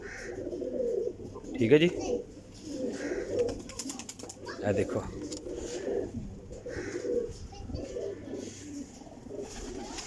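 Pigeons of the Salara breed coo repeatedly in low throaty rolls near a man holding them, their calls running under his intermittent talking.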